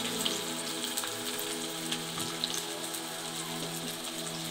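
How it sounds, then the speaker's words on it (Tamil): Onions sautéing in hot oil with cinnamon, cloves and cardamom for a mushroom gravy, giving a continuous, soft, close crackling sizzle with small pops and no talking. "வெங்காயத்தை போட்டுட்டு நல்லா வெங்காயத்தை இப்போ வதக்கணும்"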